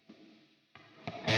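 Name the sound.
guitar amp simulator reverb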